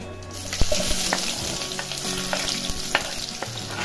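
Chopped onion hitting hot oil with cumin and mustard seeds for a Maharashtrian zunka, a loud close sizzle with crackles and pops from the seeds, and a few stirring scrapes.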